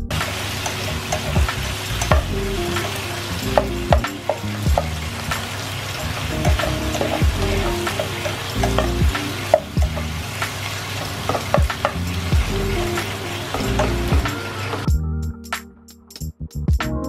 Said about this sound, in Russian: Чтобы овощи быстрее приготовились, мы накрываем их крышкой и продолжаем жарить.